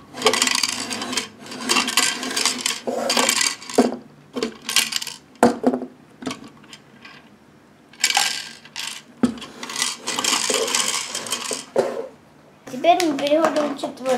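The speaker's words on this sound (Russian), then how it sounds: "если она поедет, то тогда там будут греметь вот эти вот детальки" Small plastic LEGO Ninjago pieces from an Ice Tank set rattle and clatter in bursts, with quiet handling sounds and pauses between the rattling.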